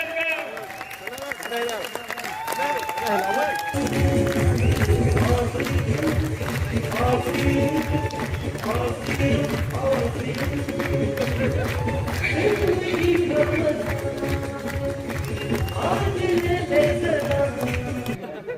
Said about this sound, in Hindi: आपकी जोरदार तालियों के बीच में बुला रहा हूं स्टार जगदीश कबीरा जी